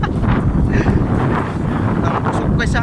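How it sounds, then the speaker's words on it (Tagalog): Strong wind gusts buffet the microphone at a hillside viewpoint, a loud, rough continuous roar with surges that swell and ease, while a person talks briefly over it. "Ang hangin pud kusog."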